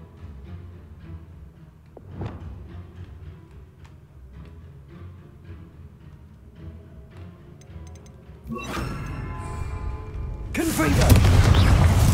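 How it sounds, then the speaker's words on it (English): Spell explosions from Confringo and Bombarda blasts in Hogwarts Legacy combat, a small pop early on, then a loud crackling burst building into a heavy roaring blast at the end, with speech heard over the quieter stretch. "Confringo! Expelliarmus! Confringo! Bombarda!"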